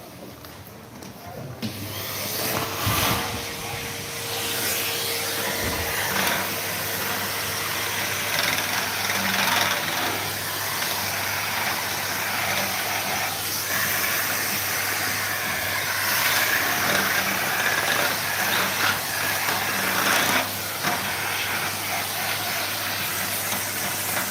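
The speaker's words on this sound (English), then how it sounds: "quick vacuum up of that" A steady, loud hissing roar like a vacuum cleaner running continuously close by, with a brief clunk near the start.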